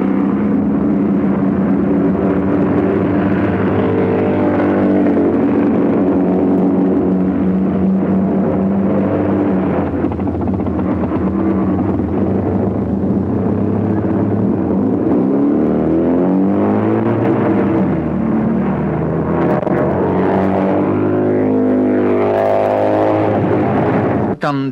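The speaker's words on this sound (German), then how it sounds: "Es wurde hart gefahren, so mancher landete in den Leitplanken, wie hier die Schweizer Müller und Zaug mit ihrer BMW Baujahr 1950." A 1950 BMW sidecar racing motorcycle roars loudly and continuously, its engine pitch rising and falling as it is pushed hard, with a voice faintly present in the mix.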